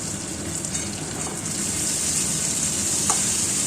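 Fried spice masala being stirred in a hot pan with salt added, a continuous close sizzle with soft scraping strokes and a brief clink near the end.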